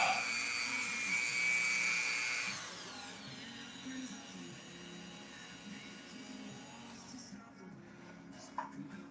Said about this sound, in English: little slow the speed down on the Dremel a little bit. I'm just going to go in and clean up some of these edges and just do a real light sanding here.